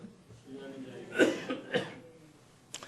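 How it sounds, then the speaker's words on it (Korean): A man coughing during a church sermon, two or three harsh close bursts in quick succession with a faint sound at the end, heard in a quiet room. "기침이 많이 나서 죄송합니다."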